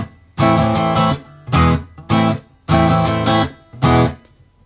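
An acoustic guitar strums the chords of a song at full speed, loud bursts of strumming broken by abrupt muted stops in a strum-and-stop pattern, with no talking.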